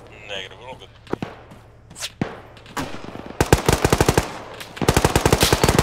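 Gunfire during an outdoor airsoft-style shooting mission, starting with scattered single shots and then breaking into rapid bursts of close, sharp automatic fire, with voices briefly audible beneath.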